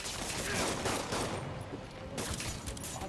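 Bursts of gunfire from thugs in Marvel's Spider-Man, a dense, loud rattling volley that fills the short stretch, with no speech over it.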